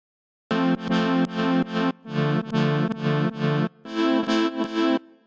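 Short chopped stabs of horn, piano and guitar in a dubstep track, distorted and heavily processed, firing in rhythmic bursts of several hits each in three repeating phrases, loud and alone.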